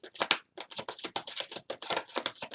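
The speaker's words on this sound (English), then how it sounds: "Okay, we shuffle again." Tarot cards are shuffled by hand in quick, crisp riffling bursts, about a dozen rapid flicks with short pauses between them, close and clear with no talking.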